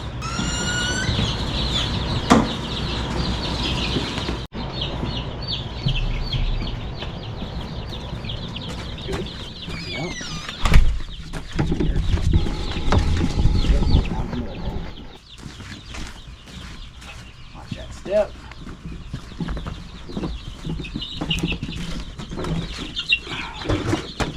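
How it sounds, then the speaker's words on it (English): Several roosters from a whole flock crow and cluck outdoors at an off-grid Ozarks homestead, with repeated calls overlapping at moderate distance and a few louder bursts, continuing for the full stretch with no talk. "They're all roosters. The whole flock of them."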